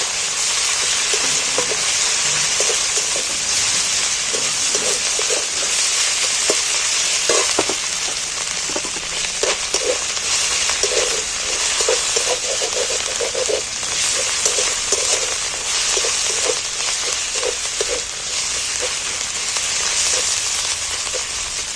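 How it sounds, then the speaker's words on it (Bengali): Ginger-garlic paste fries in oil in a pan for a Bengali fish dish, giving a steady, loud broadband sizzle with scattered crackles and faint stirring clicks throughout, with no voices. "আদা রসুন বাটাটা যাতে কাঁচা গন্ধটা চলে যায় ভালো করে ভেজে নেব।"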